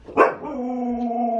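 A dog gives one sharp bark that trails into a drawn-out whimpering whine. It is close and clear, and there is no talk over it.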